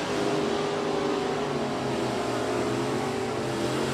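A 1967 Camaro with an automatic transmission at a drag strip, its engine roaring loud and steady at high revs throughout a launch where the tires spin.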